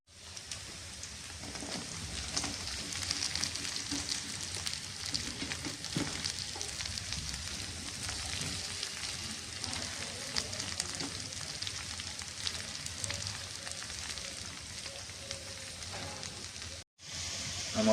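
Onion and cumin dropped into hot oil, a continuous bright sizzle and frying hiss held steady for a long stretch, with faint stirring and a brief cut near the end, no talk.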